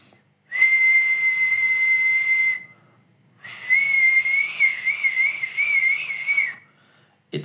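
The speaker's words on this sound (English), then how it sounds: "And if I whistle," A person whistles two sustained high tones, the first steady for about two seconds, then after a short pause a longer, slightly wavering note, close and clear against near silence.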